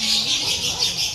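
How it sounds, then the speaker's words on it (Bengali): Birds in a zoo enclosure in Darjeeling call in a brief, high chattering wash, fairly close and continuous over a low background hum. "এদিকে সব পাখি।"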